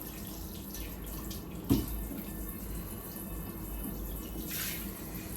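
Tap water runs steadily into a sink while a new non-stick pot, used for a sauce, is washed after dinner, with a brief clunk partway through.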